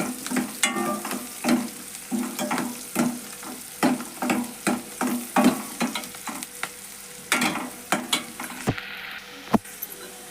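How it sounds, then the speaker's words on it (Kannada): Chopped onions frying in hot tempering oil for a spicy lentil curry, a close steady sizzle with rhythmic stirring scrapes and clinks at a regular pace, no speech. "ಈಗ ಉಳ್ಳಾಗಡ್ಡಿ ಎಲ್ಲ ಹಾಕಿದ್ದು ಫ್ರೈ ಆಗ್ಯಾವ."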